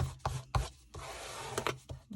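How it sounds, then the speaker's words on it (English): A paper envelope flap is burnished down by hand, producing several close, dry rubbing strokes with brief scraping swipes separated by short pauses. "we're just going to burnish that down just to make sure"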